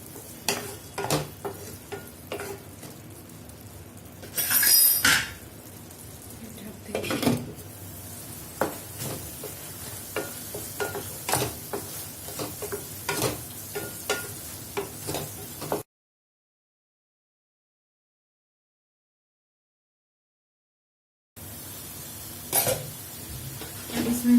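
Okra masala frying in a pan as salt is mixed in, a soft sizzle broken by repeated scraping and clinking from the spatula, with a short silent gap before the stirring resumes.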